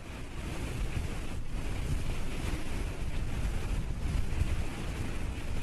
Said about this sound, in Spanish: A media tarde el viento empieza a soplar